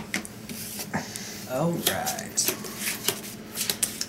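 Sleeved Magic trading cards shuffled by hand, soft repeated riffling and rubbing bursts over a few seconds, with someone talking quietly between them.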